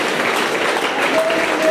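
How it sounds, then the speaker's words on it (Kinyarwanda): Applause from a church or gospel gathering crowd in Burundi, a steady, dense wash of clapping held at an even level throughout, with no pauses or breaks. "Uyu mupapa mukomera amashyi."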